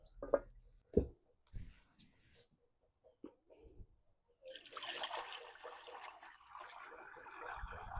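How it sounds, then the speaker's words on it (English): A few soft knocks and clinks give way to a steady splashing pour as plant dye liquid is strained off cooked stones, skins and flesh of wild plants, running continuously through the second half. "I'm going to strain that off, so I'm just left with the liquid"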